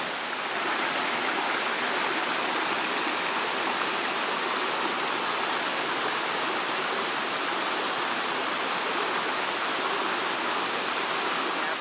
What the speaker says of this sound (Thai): จุดนี้จะมีน้ำตก